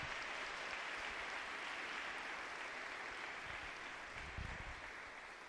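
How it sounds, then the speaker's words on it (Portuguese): A church congregation at a charismatic Catholic gathering gives a long, steady round of applause. The sound is a dense, even wash of clapping that is fairly distant and holds for several seconds. "dê uma salva de palmas para o Senhor."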